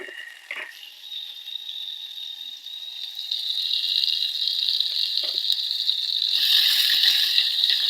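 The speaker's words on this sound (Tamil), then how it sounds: "கடுகு பொரிஞ்ச உடனே கருவேப்பிலையை எடுத்து போடணும்." Mustard seeds and curry leaves frying in hot oil for a masala kuzhambu: a steady bright crackling sizzle that swells louder partway through, with a couple of faint knocks, close by.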